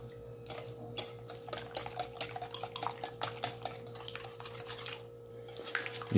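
Spoon stirring demerara sugar in a bowl, a quick run of light metallic clinks and scrapes against the dish, close and fairly quiet, over a steady low hum.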